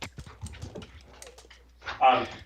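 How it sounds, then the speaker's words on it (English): A dog barks and whimpers in the background of a remote code-review call, with people talking first and a short, louder yelping burst arriving near the end. "Sorry, my dog's barking."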